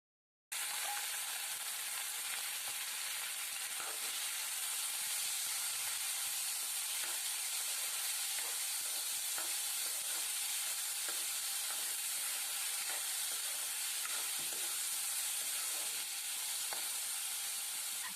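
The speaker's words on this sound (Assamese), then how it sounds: "দাইলখিনি অলপমান ভাজি ললো।" Soaked masoor dal (red lentils) frying in a pan gives a steady, dense sizzle with scraping stirring clicks throughout. No one speaks.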